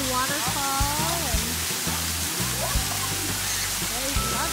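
Water from a splash pad waterfall splashes down in a steady hiss, like heavy rain, throughout. Children's high voices and shouts ring out over the splashing.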